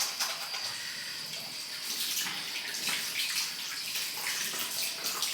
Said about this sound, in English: I'm just going to wash my hands because of the oil from my head.